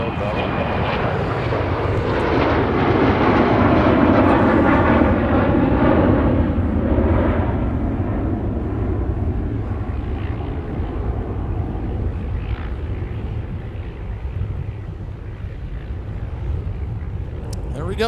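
A fixed-wing airliner arriving at Minneapolis–Saint Paul airport roars loudly and steadily, a broad engine rumble swelling early then easing slowly, with radio chatter and talk faintly underneath.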